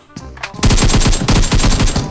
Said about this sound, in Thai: หรือว่าเสียงปืน